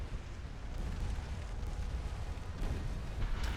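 A warship blowing up in Ultimate Admiral: Dreadnoughts comes through as a sustained, heavy rumbling roar of explosions with scattered bursts, steady and loud throughout, with no voices.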